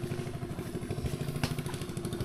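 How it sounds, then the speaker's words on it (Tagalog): A motorcycle engine runs close by with a throbbing, rattly mid-pitched note and a brief sharp clatter partway through, heard alone without talk. "Ay mga mama, motor ni Kabugoy"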